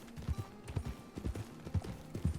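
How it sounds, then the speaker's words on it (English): Horse hooves clip-clop at a steady walking rhythm in the RedM roleplay game, about nine close, even beats with no talking over them. "Get on Lola's horse for a second"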